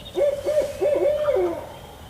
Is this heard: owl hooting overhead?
yes